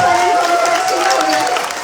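Loud audience applause at a stage event, dense clapping mixed with crowd noise and a sustained tone, close and full for a short burst.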